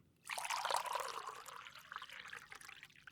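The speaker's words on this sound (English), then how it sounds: "Here, allow me to pour you some." A brewed potion is poured into a cup in a continuous, gentle liquid stream that starts abruptly, trickles, and tapers off, quiet and close.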